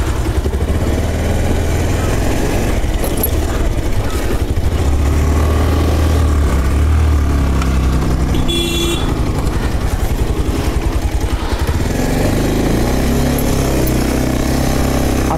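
A motorbike climbs a steep uphill stretch of mountain road on the way from Rukum to Salyan, its engine drone running steadily and loudly throughout with rough low rumble and wind buffeting.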